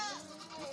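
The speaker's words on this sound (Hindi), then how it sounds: "मोनी बकरी आ गई है" A goat bleats faintly at a goat farm among other goats and kids, a short wavering cry under a busy, noisy background.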